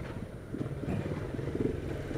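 Dafra Speed motorcycle engine running steadily in traffic, a constant low rumble with a slight rise partway through, close to the microphone and mixed with wind noise.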